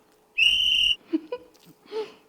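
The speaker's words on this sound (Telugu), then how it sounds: "నాకు నేనే ఒక విజిల్ వేసుకుంటున్నా." A single loud, sustained whistle holds one clear high note for about half a second, followed by a few short, soft vocal sounds.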